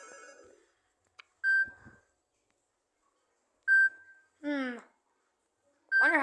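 Samsung Galaxy A03 ringtone: short electronic tones, each a bright beep followed by a rapid rising, warbling chirp, repeating in bursts with silent gaps and a brief murmur of speech at the start.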